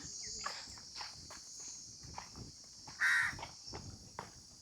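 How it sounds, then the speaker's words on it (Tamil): A crow gives a single short caw partway through, fairly close, in a quiet rural spot with soft footsteps, faint crunches and a steady high insect drone in the background. "இந்த காக்கா தான் அதிகமாக பார்த்துட்டு இருக்கேன்"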